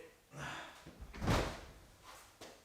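A door on a Toyota Supra, parked in a garage during chrome tint work, thuds shut once with a single loud broadband impact, followed by a few fainter knocks and handling sounds.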